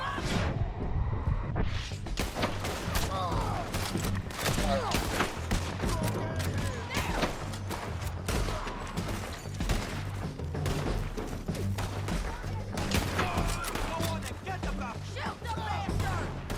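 A dense, loud fusillade of gunshots fills a Red Dead Redemption 2 firefight, with rapid overlapping cracks running throughout and shouted voices mixed in.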